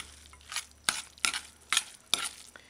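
A spoon stirring honey into a breakfast mixture in a bowl, making about five rhythmic swishing scrapes roughly half a second apart, close and moderately quiet, with no voices.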